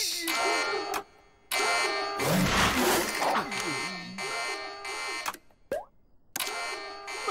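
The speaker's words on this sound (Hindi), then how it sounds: "ये बटन दबाता हूँ तो अचानक से अलार्म क्यों बज रहा है?" Alarm blaring after a button is pressed in a Daltons cartoon, a loud electronic buzzing tone sounding in repeated bursts with short gaps and a noisy clatter in the middle.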